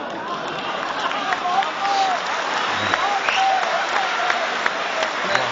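An audience applauds during a talk on madrasahs in India: steady, dense clapping from a crowd, fairly loud and continuous throughout, with no break.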